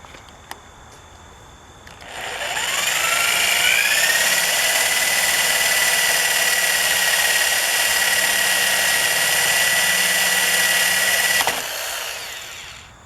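A power drill spins up and whines loudly and steadily for about nine seconds while drilling out rivets on an Aliner camper's roof bracket, then winds down; no voices.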